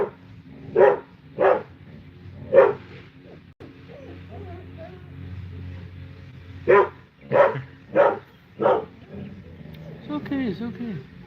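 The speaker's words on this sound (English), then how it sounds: "It's my dog." A dog barks in short, loud, evenly spaced bursts, with a quiet gap before a second run of four barks, while a person talks softly in the background.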